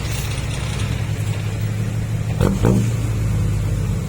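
A diesel dump truck engine with a fuel injection pump tuned off, idling with a steady low drone and then revving twice in quick bursts near the end, loud and close with no talk.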